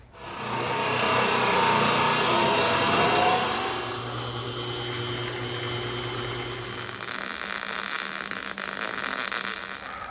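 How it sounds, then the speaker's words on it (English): Impact wrench working the pinion nut on an old Chevy truck, a loud continuous whirring rattle close by that runs for several seconds, then gives way to a quieter higher whine and some scraping near the end. "I'm just gonna put my impact in here and I'm just gonna let it eat"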